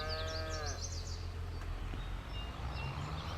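Cows in Farming Simulator 22 moo loudly and close by, one long drawn-out call at the start followed by fainter lowing over a low steady rumble.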